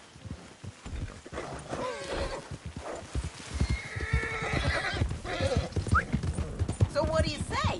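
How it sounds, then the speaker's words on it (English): Horse in Red Dead Redemption 2 with hooves pounding in a quick gallop and a shrill neigh rising near the end, loud and close, with speech mixed in. "that's one nice-looking horse you got there"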